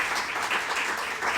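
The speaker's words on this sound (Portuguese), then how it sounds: "Aplauda ao Senhor por seu melhor." A church congregation applauding during a Portuguese-language worship service, a steady dense wash of many hands clapping at moderate distance with no voices standing out.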